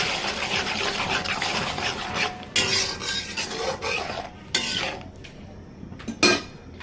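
A spoon stirring and scraping turmeric, chili and salt paste with water in a pan, a rasping, uneven scrape with louder strokes toward the end, nearby and with no talk.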